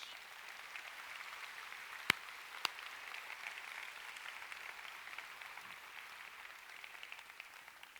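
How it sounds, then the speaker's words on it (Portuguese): Church congregation applauding during a sermon, soft distant patter of many hands clapping, steady and faint with a couple of sharp isolated knocks. "Quem pode dar um aplauso ao Senhor Jesus?"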